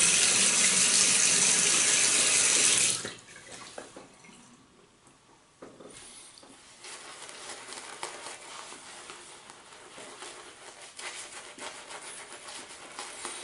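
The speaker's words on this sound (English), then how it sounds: "I'm gonna rinse the face" Running water from a bathroom tap gushes loudly at first, then cuts to softer splashing and trickling as a face is rinsed after a wet shave.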